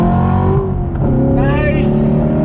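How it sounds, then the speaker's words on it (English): A C7 Corvette Grand Sport climbs uphill in second gear on throttle, its engine droning loudly and rising steadily in pitch as it accelerates, with someone talking over it. "Rolling on throttle as we go uphill in second gear."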